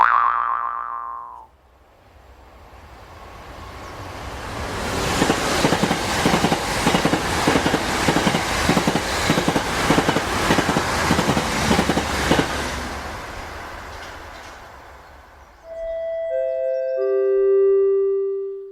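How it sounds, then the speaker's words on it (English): A train passes on rails. Its rhythmic clickety-clack grows loud, holds steady, then fades away, and a short series of descending chime tones follows. "The train now approaching platform 4 has just left."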